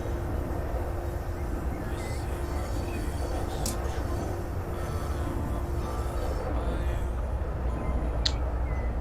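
An SU42 diesel locomotive in the MaSzyna train simulator game drones with a steady low engine rumble and faint running noise, with a couple of brief squeaks, quiet and continuous with no voices.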